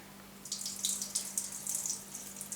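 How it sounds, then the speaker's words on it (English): Tap water for cooking beans runs and splashes softly into a pot or sink, a fairly faint, continuous trickling with small fluctuations and no talking. "put some new water in."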